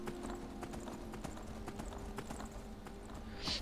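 Horse hooves clip-clop at a steady walking rhythm in the Skyrim video game, a crisp close series of even hoof strikes over a low continuous background hum, with no talking.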